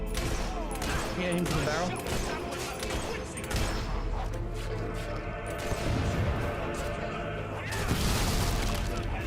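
Gunfire from a traitor in the Fable 3 video game, a dense fusillade of repeated shots and booms crowding the scene while people talk over the action.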